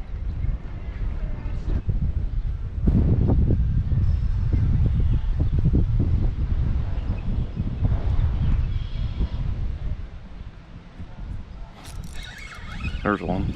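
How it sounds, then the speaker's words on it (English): Strong gusty wind roars and buffets across a lake during a windstorm while fishing, a low rumbling rush that swells and eases, with someone speaking over it. "Very windy still."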